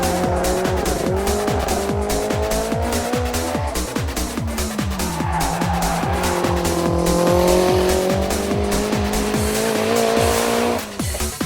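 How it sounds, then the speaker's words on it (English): Nissan 200SX race car on a track, engine note climbing and falling through gear changes with tyre squeal, loud and close, joined by other passing cars throughout. "This 200SX was massively quick."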